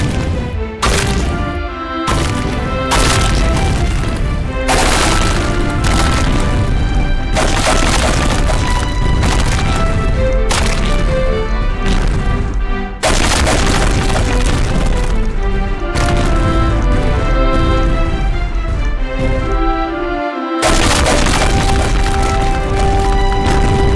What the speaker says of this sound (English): I spawned like a million slimes and tried exploding them all at once